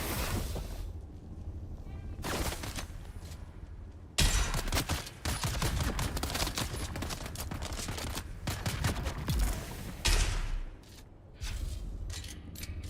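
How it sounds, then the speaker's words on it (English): Gunfire rattles in the video game Dune: Awakening as enemies shoot at the player, with dense, loud bursts of rapid shots broken by brief lulls. A voice talks at times. "somebody else is shooting at me now"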